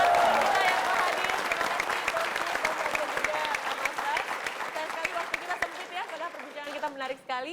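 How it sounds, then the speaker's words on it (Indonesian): Studio audience clapping at an Indonesian TV talk show, a dense steady wash of applause that fills the whole stretch and thins toward the end, with a host's voice speaking over it. "Kita berikan tepuk tangan sekali lagi untuk kita yang telah hadir"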